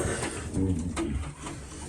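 Pigeons coo softly inside a pigeon loft in Bibrka, low murmuring calls blending with faint background noise and a little speech-like sound.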